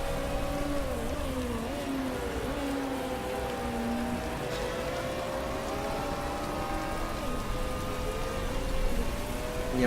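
Steady rain falls on the race track in the Motorsport Manager racing game, a continuous wash of droplets with faint car engine tones winding through it.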